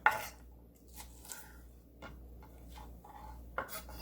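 A knife chops seeded chili peppers on a board, several faint, sparse taps spaced out over a quiet background, with no talk.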